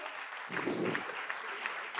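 Audience in a concert hall applauds singers after a Marathi music performance, a steady burst of clapping, moderately distant and soft, with no voices over it.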